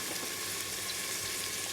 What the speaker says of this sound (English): And now I'm going to fry up the onion.